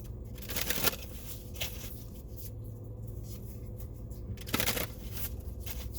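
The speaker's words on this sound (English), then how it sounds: "You shuffle and pull a couple cards." Soft, papery riffling of tarot cards being shuffled, two brief louder bursts of shuffling over a steady quiet background hiss.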